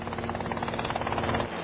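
A helicopter hovers low over a dense pine forest, its rotor chopping in a fast, steady rhythm with a constant engine drone, close and loud throughout.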